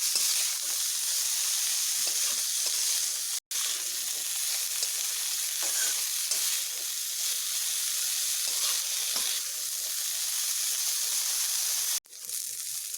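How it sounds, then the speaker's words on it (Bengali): Figs fry in a pan with salt and turmeric, giving a steady, moderate sizzle that continues with faint stirring sounds and a couple of brief dropouts. "নুন হলুদগুলোকে ভালোভাবে মিশিয়ে আমি এগুলোকে ভেজে নেব"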